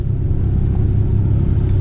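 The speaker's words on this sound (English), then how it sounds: "We're just taking the truck for a spin to warm it up and dry the engine off." A Dodge Ram pickup truck with a clogged heater core is driven to warm up, its engine giving a steady low rumble from inside the cab, even and unbroken for the short stretch.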